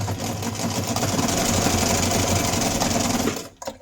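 A sewing machine stitches the base of a rice-filled mitten hand warmer, its fast even whir running loud and close for about three seconds before it stops.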